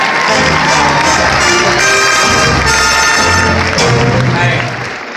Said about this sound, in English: Let's give a round of applause for our volunteer here.